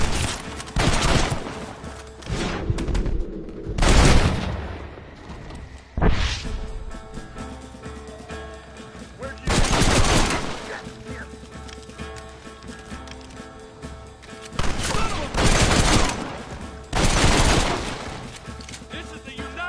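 Gunfire in the video game Red Dead Redemption, loud bursts of shots cracking in clusters alongside horse hooves clip-clopping, with shouted voices and battle noise between the volleys.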